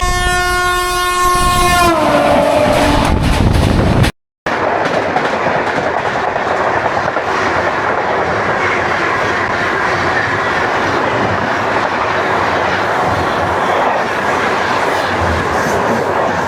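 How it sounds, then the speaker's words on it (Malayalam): The Kovai Express, Chennai Central to Coimbatore, roars past close by with a steady rumble and rhythmic wheel clatter, a loud horn blaring at the start before a brief break in the sound. "ഇപ്പോൾ പാസ് ചെയ്തു പോയ ട്രെയിനാണ് ചെന്നൈ സെൻട്രൽ കോയമ്പത്തൂർ കോവൈ എക്സ്പ്രസ്."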